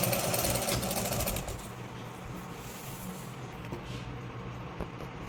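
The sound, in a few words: sewing machine stitching a saree fall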